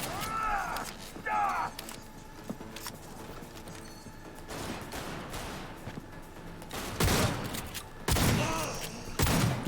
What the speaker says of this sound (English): Let's throw another nade.